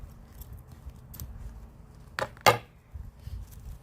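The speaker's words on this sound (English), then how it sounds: "let me just get my scissors really quick, and then we'll go ahead and cut it" Two sharp scissor snips close together, loud and near, over a quiet background.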